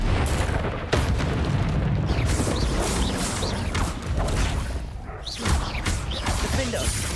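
Confringo fire spells burst in Hogwarts Legacy combat: heavy booming blasts and whooshing sweeps ride on a dense, continuous roar of battle noise that hardly lets up.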